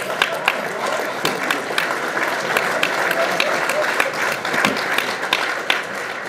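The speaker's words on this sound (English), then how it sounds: "maybe you'll get 2 rounds of applause" Steady audience applause greets a state senator at a governor's pension crisis event in Owensboro, dense clapping filling the room for several seconds with a few louder claps popping out and faint voices underneath.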